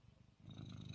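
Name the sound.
cat purring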